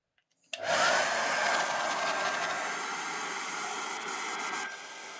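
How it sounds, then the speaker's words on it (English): A hair dryer switches on abruptly and blows steadily at close range on a dog, a loud, even rush of air with a faint whine, easing slightly near the end. "Just going to do a bit more hair dryer."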